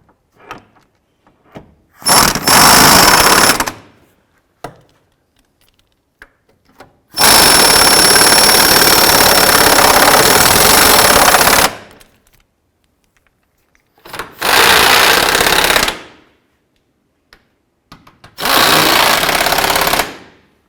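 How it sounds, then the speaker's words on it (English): A power tool tightens the drive shaft bolts on a 2005-10 Jeep Grand Cherokee, giving four loud, harsh bursts, the second one long, separated by near silence. "tighten up this forward bolt first."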